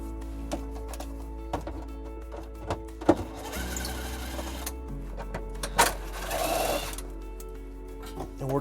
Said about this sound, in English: We're just going to take those out using a 10mm socket.